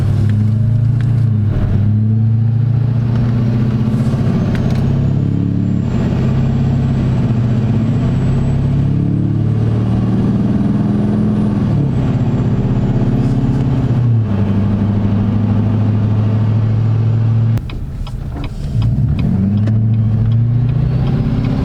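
An LML diesel pickup truck on a test drive after engine work, its low engine drone loud and steady throughout, with pitch rising and falling through gear changes and a brief dip near the end.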